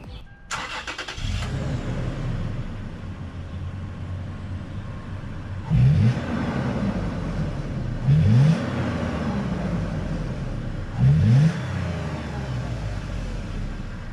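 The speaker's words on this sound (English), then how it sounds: "a little clip of the 4Runner starting and a little bit of revving" A 2018 Toyota 4Runner with an aFe cat-back exhaust cranks and starts, then idles steadily with three short revving bursts spaced a few seconds apart, close by.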